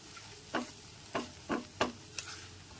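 Spices sautéing in a pan over a low gas flame, with a spatula scraping and stirring in five or six distinct strokes over a faint background, no talking.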